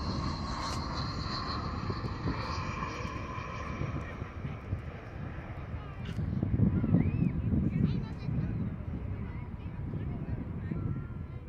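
An Airbus jet's engines roar as a steady broadband rumble that swells midway, heard from a plane-spotting spot by a fence at Dallas–Fort Worth airport, with wind noise and faint voices.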